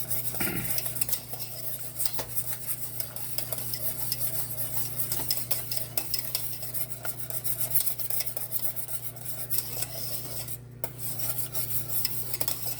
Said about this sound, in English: Now you constantly gotta stir that thing, because if you don't, it will burn.